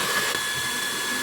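A hair dryer rated at 110,000 rpm blows in a steady, loud, high-pitched whoosh for a second or so.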